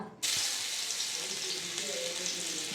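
Ginger dropped into hot mustard oil sets off an abrupt, loud sizzle that settles into a steady close frying hiss for a few seconds.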